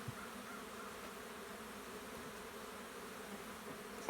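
Honey bees buzz faintly and steadily around a hive as it is being smoked, a soft continuous hum with no voices.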